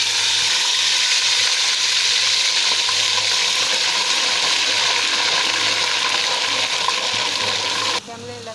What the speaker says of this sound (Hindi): ये देखें, लहसुन अदरक है, ये तेल गरम हो चुका है, ये हम इसमें डाल रहे हैं।